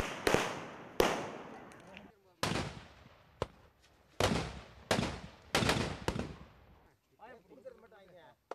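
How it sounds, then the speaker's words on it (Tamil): Firecrackers go off at a roadside celebration by villagers, a string of sharp, loud bangs about a second apart, each with a decaying crackle, followed by faint crowd noise at the end. "எட்டு வழிச்சாலைக்கு எதிராக போராடிய மக்கள் முதலமைச்சரின் அறிவிப்பை வரவேற்று பட்டாசு வெடித்தும்"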